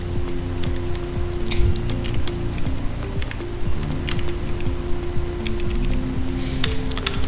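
HTML code being typed on a computer keyboard, with rapid, continuous key clicks in irregular bursts throughout, close and clear over a steady low hum.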